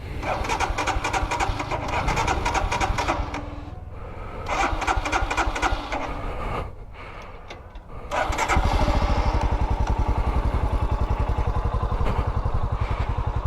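A Royal Enfield Scram 440 motorcycle engine cranks and runs, a loud, close, uneven rumble with brief pauses before settling into a steady, throbbing idle.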